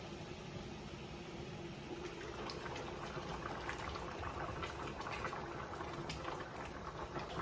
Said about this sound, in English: Let's check our soup and see how well it's boiling